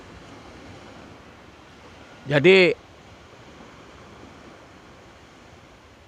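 Sea waves on the north coast at Tanjung Pakis beach wash in a steady, hissing roar. A single short spoken word cuts briefly over the surf.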